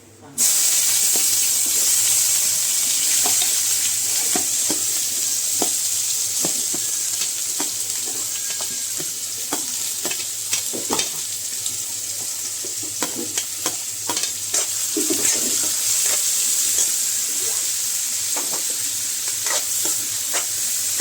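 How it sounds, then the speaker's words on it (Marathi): Onion and curry leaves fry in hot oil with mustard seeds for a spicy tomato chutney, a loud continuous sizzle and hiss broken by frequent scraping and clinking of a stirring spoon. "कांदा थोडा वेळ परतून घ्यायचा आहे, गुलाबी होईस्तोवर."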